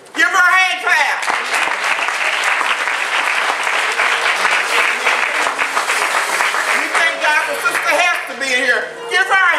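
Congregation applauding in church during a Mother's Day service, loud sustained clapping from a large crowd with a voice speaking over the start and end.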